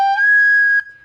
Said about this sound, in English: Now if you actually make a squeak